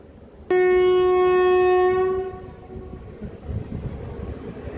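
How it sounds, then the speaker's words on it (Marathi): A local DEMU train approaches head-on and sounds a loud, sustained horn blast for about a second and a half before it fades, leaving the rumble of the approaching train underneath. "समोरून एक लोकल डेमो गाडी येत आहे मित्रांनो"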